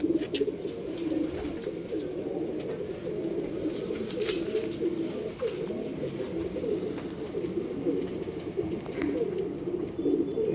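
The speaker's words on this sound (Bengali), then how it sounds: "এই পায়রা দুটো রাখতে পারেন" Domestic pigeons coo continuously in soft, low, rolling calls, with faint chirps and rustles from the birds nearby, and no one speaks.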